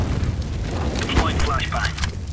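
A flashbang grenade goes off in a tactical shooter game, one sharp crack with a short boom and ringing decay in the middle, surrounded by game noise and voices.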